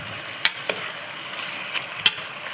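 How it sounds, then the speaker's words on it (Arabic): Chicken liver and gizzards frying in a pan, a soft sizzle under a few sharp clacks of a spoon stirring against the metal. "نقلب بقى شويه لحد ما كلهم يتحمروا مع بعض"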